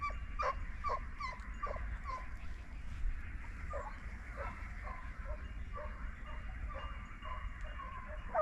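Hunting dogs out on a predator hunt in the Guria countryside give repeated short, high whimpers and yips at a moderate distance, fairly faint, over a low rumbling background.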